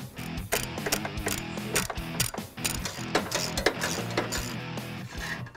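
Ratchet wrench loosening exhaust stud nuts on the back of the H-pipe studs of a 1999–2004 Mustang GT, working the factory H-pipe free of the flow tubes: steady, close metallic clicking in rapid runs with brief pauses, no talk.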